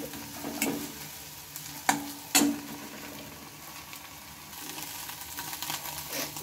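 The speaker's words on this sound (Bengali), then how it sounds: "ডিমটা ভালোভাবে ভাজা হয়ে গিয়েছে" Beaten egg frying with onion and spices in a pan, a steady soft sizzle with a few sharp stirring knocks and scrapes near the start, close and fairly quiet.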